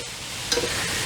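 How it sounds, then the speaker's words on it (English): Sausage, peppers and onions sauté in olive oil in a pan, a steady close sizzle and crackle with a brief stirring scrape partway through. "we're going to let them saute for about 5-10 minutes"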